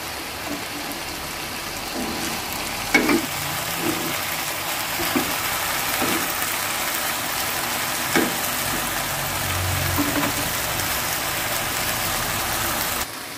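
Chicken fillet stir-fries in a wok with lemongrass, golden garlic and a little sugar, giving a steady close sizzle and hiss throughout, broken by a few clacks of a spatula against the pan.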